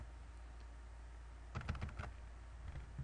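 Quiet typing on a computer keyboard while entering a task description in project software, with a short quick burst of keystrokes mid-way and a few scattered taps after, alone and close.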